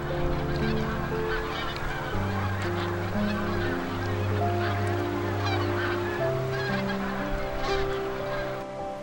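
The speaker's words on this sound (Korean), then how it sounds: "먹잇감이 풍부해서 수많은 철새들이 이곳에서 쉬어갑니다." Migratory geese honk constantly in a large flock at the coastal wetland of Hado-ri on Jeju, overlapping calls forming a loud, dense, unbroken chorus.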